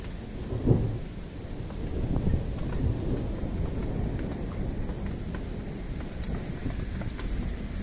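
Heavy thunderstorm over Ingolstadt: steady loud rain roars throughout with low rumbling thunder, a sharper crack of thunder near the start, no voices.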